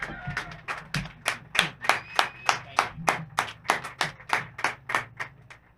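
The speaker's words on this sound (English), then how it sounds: "Give yourselves a round of applause." A small audience at a township Republican candidates forum, held outdoors through the rain, claps for themselves in a steady, fairly sparse run of distinct hand claps, close and clear with no talking.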